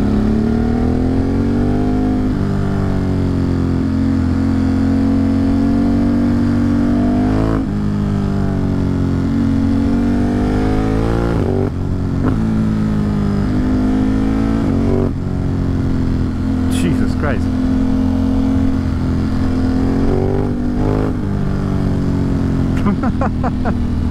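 A motorcycle engine revs hard on a Catskill hill climb up Walton Microstage, loud and close, rising and falling through repeated gear shifts with brief throttle cuts, and wind noise throughout.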